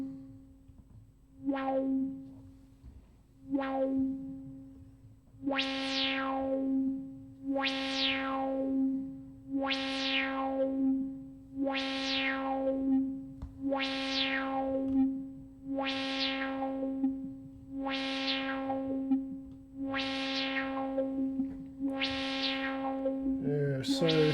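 Repeated Serge synthesizer tones, noise through a variable slope low-pass filter, each opening with a bright noisy burst that sweeps downward and darkens, over a steady low drone; about a dozen evenly spaced hits.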